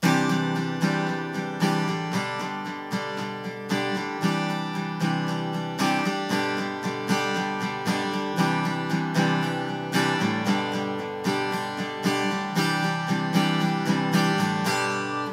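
An acoustic guitar strums a simple all-downstroke rhythm with dynamic accents, giving a steady pulse of loud chords with punchier accented strokes. It plays close and alone for the whole stretch.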